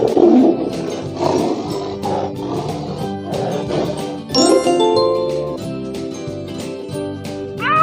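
Tiger roars sound from a cartoon-style children's animal matching game, mixed with chiming jingles and bright ding tones throughout. The sound is loud and continuous, and a bright tinkling flourish comes near the end.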